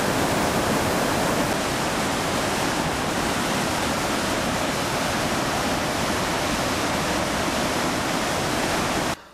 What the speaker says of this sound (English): these falls form the largest sheet of falling water in the world